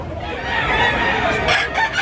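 A big rooster at the Tabunok poultry market in Cebu lets out a single hoarse crow close by, amid steady crowd noise.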